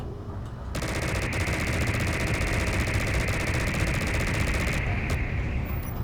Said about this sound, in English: Right, so that was one strafing round.